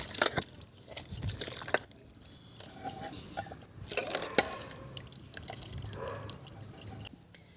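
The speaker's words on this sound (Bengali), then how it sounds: "এখন গরম সয়াবিনের মধ্যে আমরা ঠান্ডা জল দিয়ে দেব। এবার ভালো করে এইভাবে চেপে চেপে ধুয়ে তুলব।" Boiled soybeans being rinsed and squeezed by hand in cold water, with soft sloshing, dripping and wet squishing sounds close by, irregular and fairly quiet, without talk.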